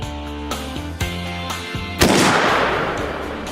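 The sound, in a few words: Springfield 30-06 rifle shot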